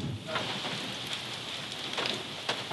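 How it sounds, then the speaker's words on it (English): Steady rain falls outdoors with a dense, even hiss of drops striking surfaces, moderately loud and continuous, with a few brighter spatters standing out and no talking. "Sorry. It's raining."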